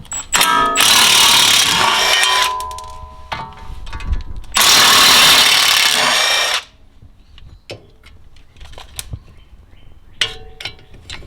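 A power tool zips out the 10 mm bolts holding the brake disc shield on a BMW E90 328i during a big brake kit install, loud close whirring bursts of a few seconds each followed by clinks of metal parts.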